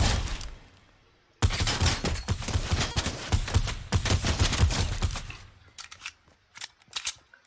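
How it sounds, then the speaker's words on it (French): Sentinels in a video game creative map open fire in a loud, dense burst of rapid gunshots that runs for several seconds, then thins into a few scattered shots. "Cette fois avec des sentinelles qui tirent."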